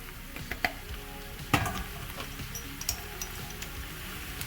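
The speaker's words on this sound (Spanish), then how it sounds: "Ahora sí, vamos a agregar lo que son nuestras papas. nuestros chícharos." Potatoes and peas hitting a hot pan with spices for vegetarian samosa filling, a low sizzle under scattered clinks and stirring scrapes of a utensil, no talking.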